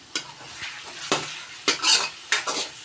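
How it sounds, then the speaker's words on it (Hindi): Chicken fries with onion and garlic in a pan for a chicken salan curry while a spatula scrapes and stirs it. Four or five distinct metallic scraping strokes ride over a soft sizzle, close and clear. "प्याज और लहसुन के साथ ये भुना जाएगा अच्छे से"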